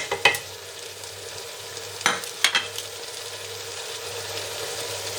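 Tomatoes, green chilies and spices sizzle steadily in a pan, a close, even frying hiss with a few sharp clinks and scrapes of a spoon near the start and around the middle.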